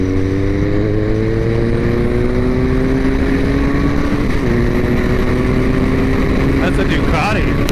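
A Ducati motorcycle passes on the road, its engine rising and shifting pitch while a steady drone of another vehicle's engine runs loud and close throughout, with voices talking over it.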